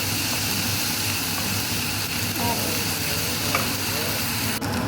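Tamarind and tomatoes fry together in a pan for tomato chutney, making a steady, close, continuous sizzle that runs throughout with faint stirring scrapes.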